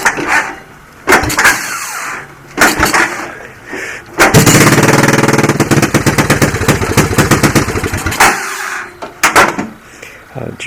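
A 1986 Honda TRX200SX ATV engine, started cold after sitting about 20 years, sputters in short loud bursts, then runs rough and loud for several seconds before dropping back to intermittent coughs.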